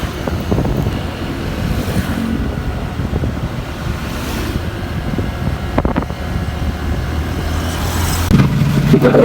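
Roadside traffic rumble from cars stuck in a jam, heard while waiting on a motorbike: steady low broadband road and engine noise with wind buffeting the microphone, continuous throughout and swelling slightly near the end.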